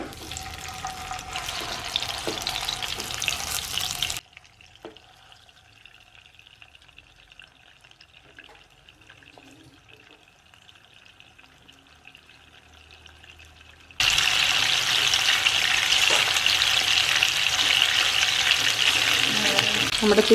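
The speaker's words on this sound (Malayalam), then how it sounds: "ഓയിൽ ചൂടായിട്ടുണ്ട്. അതിലേക്ക് നമുക്ക് ചിക്കൻ്റെ പീസ് ഇട്ട് കൊടുക്കാം." Masala chicken pieces frying in hot oil in a pan give a loud, dense sizzling hiss that cuts to a quiet gap with faint background noise, then returns just as loud and steady.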